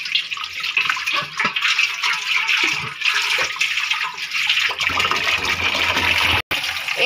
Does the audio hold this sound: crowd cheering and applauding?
no